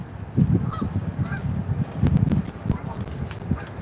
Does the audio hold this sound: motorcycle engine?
no